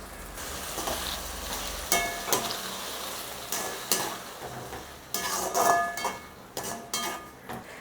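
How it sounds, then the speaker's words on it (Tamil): Ground tomato and brinjal sauté in a pan for a Tamil chickpea-and-brinjal tamarind curry, giving a soft steady sizzle broken by several scrapes and clinks of a spoon against the pan, close by, with no talking. "இந்த தக்காளியும் கத்திரிக்காயும் நல்லா சேர்ந்து வதங்கட்டுமுங்க"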